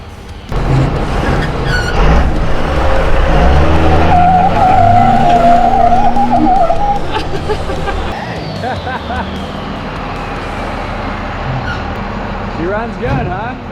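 A truck doing a burnout, its tires skidding and squealing loudly up close for several seconds before the engine noise eases off, with voices and crowd chatter in the background.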